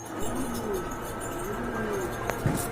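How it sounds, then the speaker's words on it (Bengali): Pigeons coo softly in a loft, low repeated calls rising and falling over a steady background hum, with a brief clack near the end. "আজকে আবারও চলে আসলাম জসিম ভাইয়ের কবুতরের লফটে।"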